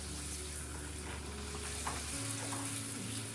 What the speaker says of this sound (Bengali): একটু লাল লাল করে ভাজলে স্বাদটা ভালো হবে